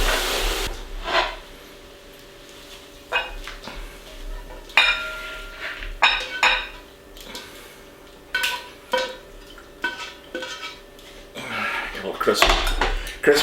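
Beef ramen stir fry tossed in a pan with tongs or forks, giving irregular metallic clinks and scrapes of utensils against the pan over a faint steady sizzle, with scattered bursts close by.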